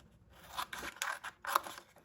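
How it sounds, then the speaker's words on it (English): Scissors cut through a sheet of paper during a flower-embossing craft project: three short snipping bursts, close and fairly quiet, with no talk. "I'm just going to cut this piece of paper here."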